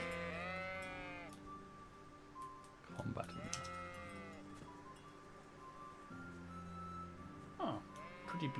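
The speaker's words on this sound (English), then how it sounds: "I mean, there's sheep up here, so I assume this is a sheepfold." Sheep bleat repeatedly in the medieval role-playing game Kingdom Come: Deliverance, several wavering calls near a sheepfold, loud and close, with a voice talking between and over them.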